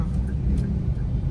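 A car drives in traffic, giving a steady low engine and road rumble heard from inside the vehicle, continuous and fairly loud, with no talk.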